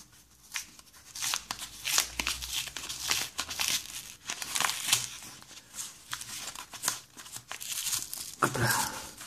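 Someone forces open a tape-sealed mail package by hand. Close, quiet bursts of crinkling, ripping and rustling come in an uneven run.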